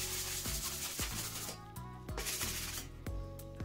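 A sanding pad rubbed briskly over a drywall repair tool to scrape it clean, giving repeated close, scratchy strokes in a steady back-and-forth rhythm with no talking.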